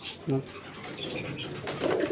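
Low pigeon coos sound close up, a brief one early and a longer throaty one at the end, with faint speech in the background.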